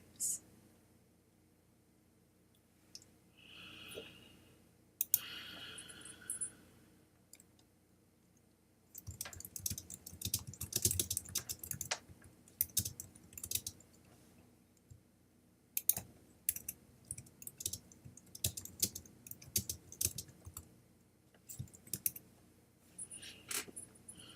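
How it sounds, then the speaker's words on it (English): Keyboard typing during an online service: scattered, quiet clicks that come in irregular bursts and grow busier toward the end, after a brief soft murmur near the start. "Typing your names"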